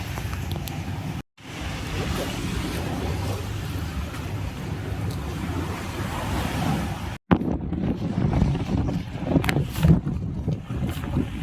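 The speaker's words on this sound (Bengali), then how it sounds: "আমাদের বোট এসে গেছে।" A boat arriving at the shore of a Maldives island resort after morning rain, heard as a steady engine drone mixed with wind buffeting and water sounds, continuous and moderately loud with two brief dropouts.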